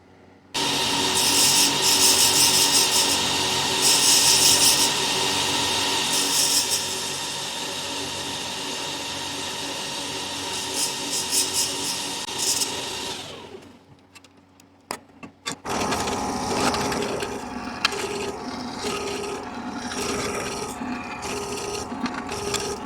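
A drill grinds steadily through traction engine rear wheel parts in a long, loud run. It stops briefly, then restarts with a rougher, scraping whine.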